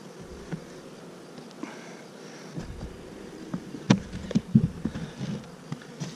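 Honeybees buzzing faintly around an open hive during an inspection, a soft continuous drone with occasional louder passes of individual bees close by and some handling knocks.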